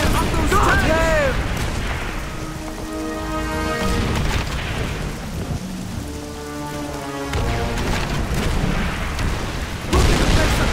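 Artillery fire in Call of Duty 3, heavy booming blasts and a rain-like crackle of debris rumbling continuously over a battlefield, mixed with shouted voices and other game sounds.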